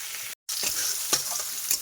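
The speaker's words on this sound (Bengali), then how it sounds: "সব কিছু পটল এক সাইডে ভাজতে থাকে, তো মাথাটাও ভাজা হোক" Pointed gourd and a fish head fry together in oil in a pan, giving a steady close sizzle that cuts out briefly, then resumes with a few soft stirring knocks and scrapes.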